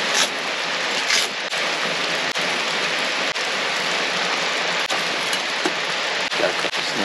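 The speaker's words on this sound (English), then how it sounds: "It's still raining, and I'm a little chilly," Steady rain falls and patters on nearby surfaces, a dense continuous hiss punctuated by occasional sharper drops, heard close at a wet West Virginia campsite.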